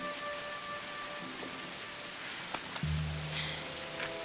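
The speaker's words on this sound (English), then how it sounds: "Why is she finding dry wood in the middle of a rainstorm?" Steady rain hisses through a rainstorm scene in the Tomb Raider video game, a dense even wash with a few sharp clicks and a low tonal swell near the end.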